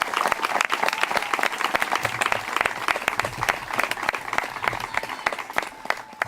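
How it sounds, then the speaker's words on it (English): A crowd applauds at a park groundbreaking ceremony in the Rancho Peñasquitos community, dense sharp claps running steadily for about six seconds, close and fairly loud, with no voices over it. "So please, give yourselves a round of applause."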